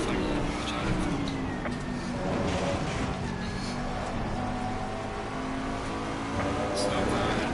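GT3 race car engines whine and rev around Watkins Glen in a racing video game, a steady mechanical drone with other cars whirring past, while a voice talks over the sound throughout.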